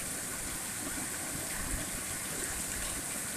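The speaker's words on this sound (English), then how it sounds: "That fresh rain water hitting off the tin roof." Steady rain drums on a metal roof, a dense continuous patter with no pauses or voices.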